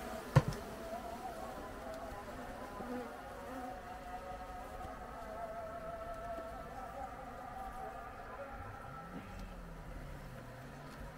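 Dense crowd of Caucasian honey bees buzzing steadily at a packed hive, a continuous close hum with a wavering drone and no talk over it.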